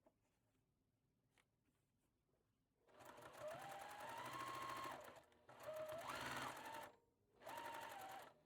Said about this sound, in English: I'm going to sew it together.